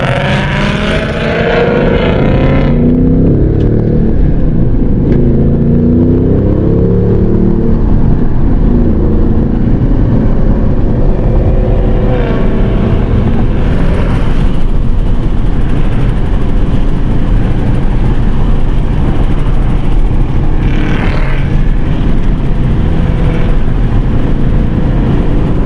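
Loud, steady engine roar of S650 Ford Mustangs rumbles throughout as they drive, with the pitch rising and falling slightly as they accelerate, close and continuous.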